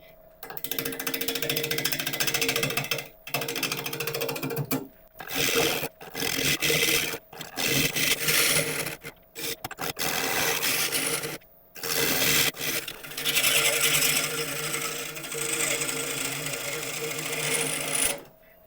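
Woodturning a large London plane burl on a lathe with a 3/8 inch bowl gouge, giving loud, rough scraping and cutting bursts broken by short pauses as the tool rides the uneven, rocky surface.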